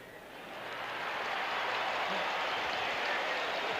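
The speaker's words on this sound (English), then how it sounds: "Crowd still just bubbling and buzzing over that truly great effort by Mike Rozier." A packed football stadium crowd at Nebraska, 1983 against UCLA, keeps up a broad, steady roar of buzzing and cheering after Mike Rozier's great run, swelling slightly and holding loud throughout with no clear talk.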